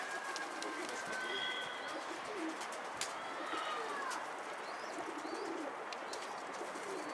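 A captured pigeon coos softly in a chicken coop, its low repeated calls carrying over a steady background hiss, with a few other faint chirps and small knocks nearby.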